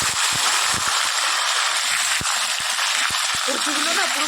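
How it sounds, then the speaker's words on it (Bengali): Pieces of taro fry in hot oil seasoned with black cumin, giving a steady broad sizzle with a few clicks and pops while a person talks over it. "কচুটা একটু ভেজে নিই।"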